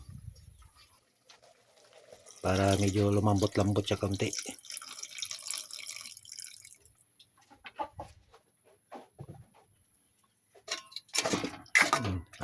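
Water is poured into a pan of adobong posit (squid adobo) as it cooks, a brief splashing pour followed by quieter sizzling while a person talks.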